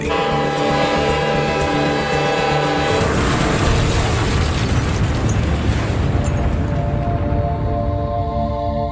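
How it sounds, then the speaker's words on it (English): A massive train explosion in a remote northern North Korean town: a sustained tone gives way around three seconds to a loud, dense, rumbling roar that continues without pause to the end. "there was a massive train explosion in northern North Korea"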